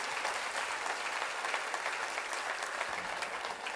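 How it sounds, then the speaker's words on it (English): Sustained applause from an audience honoring a team member, dense and steady clapping filling the whole stretch at an even level without pause. "I really want to give her a round of applause and thank her for"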